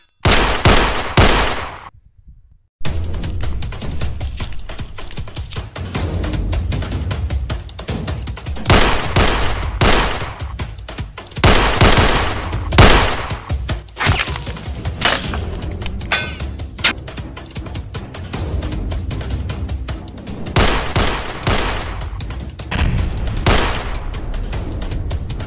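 Repeated bursts of loud PUBG video game gunfire, sharp rapid volleys cracking one after another over about twenty-five seconds, with a brief silent gap near the start.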